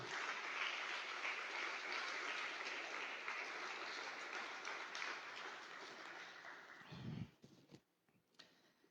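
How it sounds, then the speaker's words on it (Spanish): A church congregation at a Sunday service applauds steadily for about seven seconds, the clapping fairly distant, before it stops abruptly, followed by a short thump and quiet. "Dale un gran aplauso al Señor."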